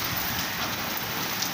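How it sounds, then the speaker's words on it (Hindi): Torrential monsoon-style rain pours down in a dense, unbroken hiss, steady and fairly loud throughout with no thunder or voices. "बहुत शदीद बारिश है माशाल्लाह, मूसलाधार बारिश इसे कह सकते हैं।"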